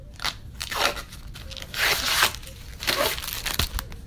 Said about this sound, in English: usually peeling off this protective cover